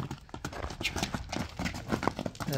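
A spotted young horse of a local breed walks with a steady, quiet clip-clop of hooves. The hoofbeats are fairly faint and sit over a rough background noise.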